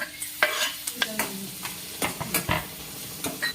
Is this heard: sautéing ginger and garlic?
yes